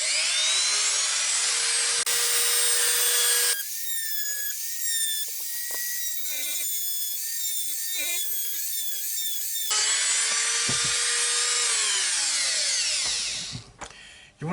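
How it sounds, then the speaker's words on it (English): A small Dremel-type rotary tool fitted with a milling bit carves into an oak bowl, giving a loud, close, high-pitched whine. The pitch shifts and dips as the bit bites into the wood, then the tool spins down near the end. "Little Dremel type tool."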